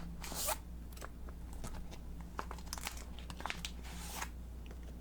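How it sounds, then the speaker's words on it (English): Pokemon trading cards slid out of their packaging, a close, quiet run of crinkling, rustling and short plastic zip-like scrapes in bursts across the few seconds, with no talking. "Now, I'm going to take out the cards."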